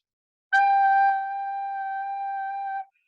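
A recorder sustains a low G for over two seconds, a smooth steady tone, close and alone, ending cleanly into silence.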